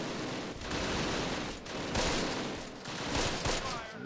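Dense gunfire bursts and volleys in the Close Combat wargame, sustained and loud throughout with a few swelling peaks, with faint voices underneath.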